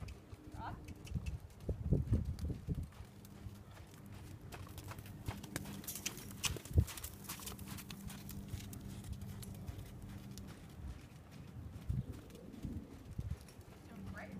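A horse being saddled for the first time walks with soft, irregular hoof clops over a low background rumble, with faint bird cooing and people talking nearby.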